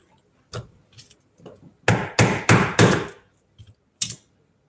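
Prying at a seized drivetrain part with a flathead screwdriver: a handful of sharp metallic knocks and scrapes, three louder ones in quick succession mid-clip, with scattered small taps around them, close up and without talk.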